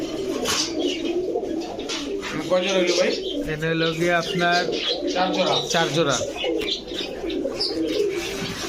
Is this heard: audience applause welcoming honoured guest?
no